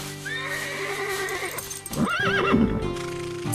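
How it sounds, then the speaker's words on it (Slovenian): Horse neighing nearby, a loud shrill whinny with a wavering, descending pitch rising over steady background noise, with no one talking. "slišala sem, da konji hrzajo zato, da kažejo svoj položaj v čredi"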